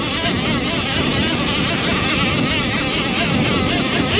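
Surron Ultra Bee electric dirt bike pushed hard up a long, fairly steep hill, giving a steady loud whine and rushing roar that holds without a break, mixed with wind buffeting.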